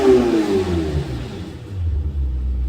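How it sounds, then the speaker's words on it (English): Lamborghini Huracan at launch, a deep exhaust note revving and then falling into a low rumbling drone, close and loud for a few seconds with no talk. "So let's take a listen at the exhaust notes, what we heard at the time of this launch."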